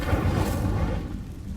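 Fiery burst of the Incendio spell in Hogwarts Legacy on PS5, a loud, close whooshing boom that swells and then tails off, with no voices over it.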